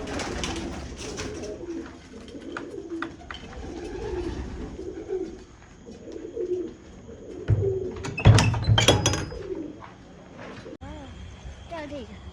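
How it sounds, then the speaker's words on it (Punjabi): Pigeons cooing in an indoor pigeon room, with soft repeated low coos and wing flutters nearby, a few sharper bursts of activity, and people talking throughout. "ਇਹ ਹੈਗਾ ਆਪਣਾ ਕਬੂਤਰਾਂ ਦਾ ਕਮਰਾ"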